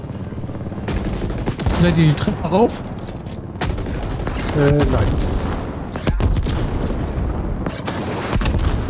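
Rapid bursts of gunfire and booms from a firefight in the video game The Ascent, loud and continuous, with people talking over it.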